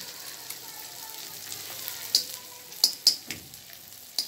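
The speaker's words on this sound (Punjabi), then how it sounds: "ਗੂੰਦ ਨੂੰ ਚੰਗੀ ਤਰ੍ਹਾਂ ਤਲਣਾ ਆ" Edible gum frying in hot ghee in a wok gives a soft, low sizzle, broken by several sharp spatula scrapes and clicks that grow more frequent toward the end, close and quiet.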